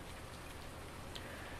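Steady rainfall in the farming video game Farming Simulator 19, a soft continuous hiss of rain hitting surfaces with no other sounds.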